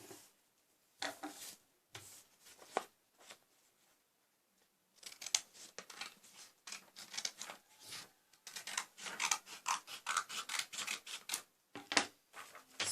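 White A4 paper being creased and folded in half by hand for a papercraft figure, a run of crisp rustles and sharp creasing swipes in irregular bursts, close and moderately loud, with quiet pauses in between.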